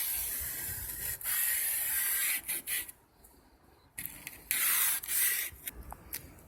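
A dish scrubber rubs over wood trim being smoothed before staining, making hissy, scratchy strokes in uneven bursts with short pauses between, close and fairly quiet.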